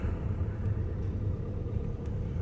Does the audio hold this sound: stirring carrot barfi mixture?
no